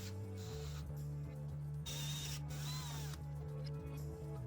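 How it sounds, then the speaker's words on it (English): A power drill bores mounting holes into a Yukon tool cart, giving a steady loud motor whine with ratcheting mechanical grinding and brief pitch shifts as the bit cuts through, close up. "drill the holes,"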